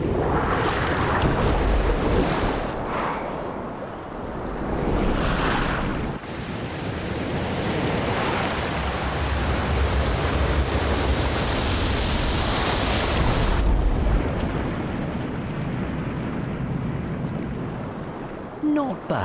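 Ocean waves and surf roll in and break with heavy, broad washes of noise and wind buffeting the microphone, loud and close, surging and easing over a long stretch.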